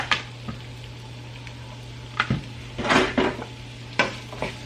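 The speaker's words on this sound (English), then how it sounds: "I'm gonna go on and add these veggies and the thyme." Vegetables and thyme go into a sizzling pan already cooking garlic, and they are stirred with scattered scraping clinks and soft squishy stirs over a steady low hum and faint frying hiss, close by, with no voices.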